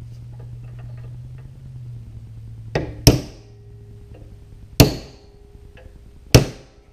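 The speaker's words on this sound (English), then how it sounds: "We can just hit this out with a hammer and punch first." A hammer strikes a punch to drive out a clutch pedal part on a 1999 Ford F250 with a ZF6 transmission, giving three sharp metallic blows spaced a second or two apart, close and loud against a quiet background hum.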